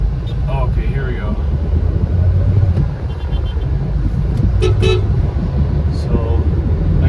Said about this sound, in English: just honk and let people know that you're behind them.